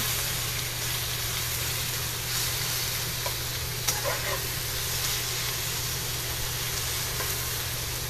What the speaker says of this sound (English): I'm just going to turn on my vent so I don't smoke you out